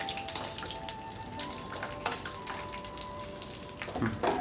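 Light crackling and sizzling of cashews and raisins frying in a pan, with scattered clinks and pops, fairly faint and close.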